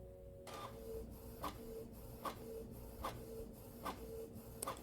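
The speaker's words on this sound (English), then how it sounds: "It's just a Canon inkjet printer that I got from Best Buy." A Canon inkjet printer running off planner pages, with a steady mechanical whir and regular print-head strokes clicking roughly every 0.8 seconds, close and moderately quiet with no talking.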